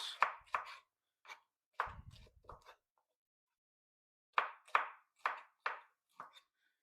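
Knife chopping food into rings on a board, a few quick cuts, a pause, then another run of crisp close chops, each sharp and separate.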